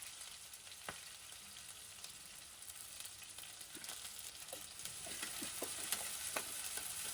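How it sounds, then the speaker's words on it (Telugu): Curry leaves, green chillies and onions fry in hot oil in a pan, a steady soft sizzle with occasional stirring clinks, growing slightly busier toward the end. "ఇప్పుడు నూనె కాగాక అందులోకి కరివేపాకు, పచ్చిమిర్చి, అలానే ఆనియన్స్ కూడా వేసుకుందాం."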